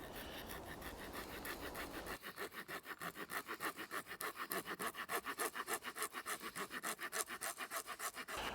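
Wood being cut with a makeshift saw blade fitted to a Swiss Army Knife: a steady, rhythmic back-and-forth rasp of close strokes, quickening into a fast regular cadence, with no talking.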